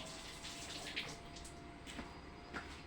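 Running tap water splashing steadily onto eggplant being washed in a sink, a continuous broadband rush with a few brief louder splashes, no talking.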